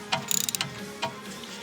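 Quick ratchet clicks loosening starter bolts on a car, a rapid burst of close, crisp pawl ticks followed by a couple of softer scrapes.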